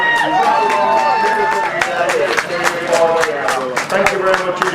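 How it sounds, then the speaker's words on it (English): Crowd at a grasstrack race meeting claps and cheers in a dense, continuous patter, heard at moderate distance with a voice talking over the applause. "Big round of applause for Andy and the Worcester crew."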